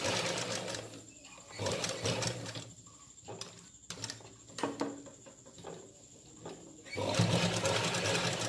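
A sewing machine stitches a side zip into a ladies' pant, running in bursts of rapid needle chatter separated by short pauses, close and moderately loud.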